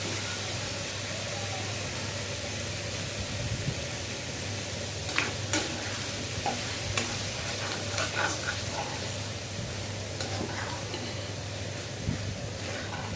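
Beef tripe is stirred and fried in a pan, with a steady sizzle and scattered scraping clicks from the spatula over a low constant hum.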